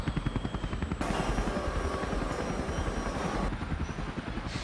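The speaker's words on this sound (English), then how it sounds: "the helicopter rotor is started" Airbus H225M helicopter engine and rotor noise, loud and close, with rhythmic blade chopping that grows steadier and fuller as the rotor spins up.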